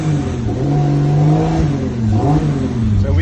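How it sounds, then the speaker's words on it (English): A BMW fitted with a 2JZ engine revs up twice with the clutch pushed in while driving, loud and close, each rev rising and falling over a steady engine drone. "I can rev the car and then let the clutch out."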